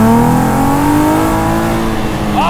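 A V6-swapped Exocet car engine revs hard and steadily at high pitch, loud and close, holding a strained roar that climbs slightly before a brief tire squeal near the end.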